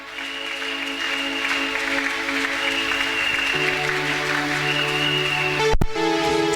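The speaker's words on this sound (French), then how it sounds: "Est-ce qu'on peut acclamer le Seigneur?" A church congregation applauds the Lord in a sustained wash of clapping, steady and full throughout, with held organ or keyboard tones sounding underneath and one sharp knock near the end.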